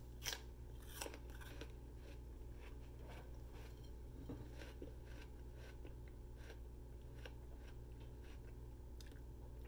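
Someone crunches into and chews a crisp apple up close, with a string of sharp, irregular crackling bites and chews over a low steady background hum.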